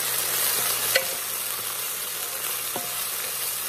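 Chopped garlic and onions fry in a pan, giving a steady close sizzle with a couple of faint utensil clicks and no voices.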